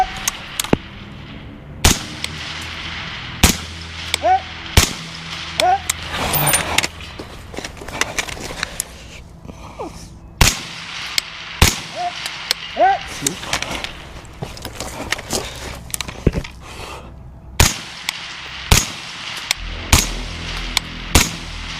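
Outdoor shooting with 14.5-inch BCM Mk2 Raider and Centurion rifles: sharp, loud single gunshots fired at irregular intervals, with people talking between shots.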